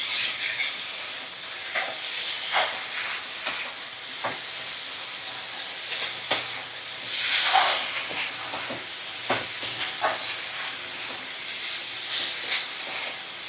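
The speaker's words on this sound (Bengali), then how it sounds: "সমস্ত মশলা ভালো করে সুন্দর করে নাড়াচাড়া করে নিতে হবে।" Spices stirred in a pan over a medium flame: a quiet steady sizzle and hiss with soft, irregular scraping strokes of a spoon against the pan.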